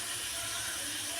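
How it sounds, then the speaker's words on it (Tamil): Steady hissing bubble of bitter gourd soup boiling hard in a pot, reduced by half, a continuous close rush with soft gurgling underneath. "நல்லா கொதிக்குது பார்த்தீங்களா, கொதித்து பாதியாகவே இப்போ வற்றிருச்சு"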